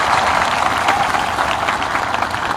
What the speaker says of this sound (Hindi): थोड़ा जोर से ताली मारो तो तिपरासा लोग।